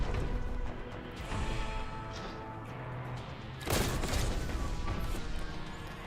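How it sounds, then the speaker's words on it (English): Continuous battle noise from the video game Warhammer 40,000: Boltgun, with dense overlapping shots and booms, plus a louder crash of fire partway through, all at a steady high level. "Who the fuck shooting from up there?"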